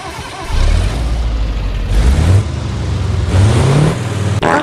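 An 11,000 cc eight-cylinder diesel truck engine idles and revs loudly in a trucking video game, rising and falling in pitch several times close up, with no talk.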